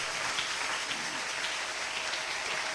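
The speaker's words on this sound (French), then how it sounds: "Maintenant, tu vas acclamer le Seigneur." A church congregation at a seminar applauds and acclaims, sustained dense clapping filling the hall at moderate level with no break.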